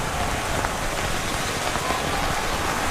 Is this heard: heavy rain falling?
yes